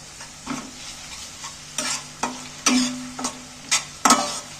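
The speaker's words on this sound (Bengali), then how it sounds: "আদা রসুন বাটাটাও তেলের মধ্যে একটু নাড়াচাড়া করে পেঁয়াজের সাথে ভেজে নিচ্ছি হালকা করে" Ginger-garlic paste is stirred with onions in hot oil, a soft steady sizzle broken by about eight sharp scraping clacks of a spatula against the pan, close and clear with no talk.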